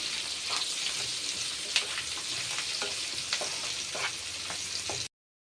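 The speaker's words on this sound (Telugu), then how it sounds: "మంచిగా ఆనియన్ బాగా బ్రౌన్ కలర్ వచ్చేలా ఫ్రై చేసుకోవాలి" Onions and curry leaves fry in hot oil for a Kerala-style prawn roast, a continuous close sizzle with scattered pops and crackles, steady and unaccompanied by talk.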